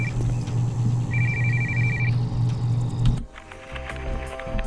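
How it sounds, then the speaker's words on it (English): A telephone rings in the video game Postal 2, with repeated electronic trills over a low steady hum. The ringing cuts off abruptly partway through, leaving quieter game ambience. "not how I answer my phone"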